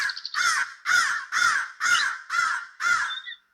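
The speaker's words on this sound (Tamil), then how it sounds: "காகம் பாடும்போது" A crow in an animated story caws six times in a steady rhythm, each harsh caw loud and close with brief pauses between, and no talking.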